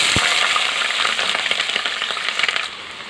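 Chopped onions and slit green chillies sizzle steadily in hot oil for a Telangana mutton curry, a dense continuous frying hiss with small crackles and a brief thud near the start as they are stirred.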